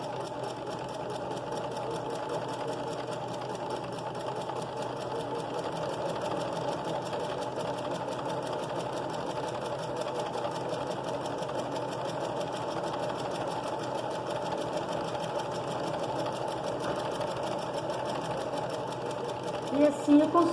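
A straight-stitch sewing machine hums continuously and steadily as it sews a curved seam in fabric, a close, even mechanical whir with a fine rapid needle rhythm, holding for the whole stretch without pause.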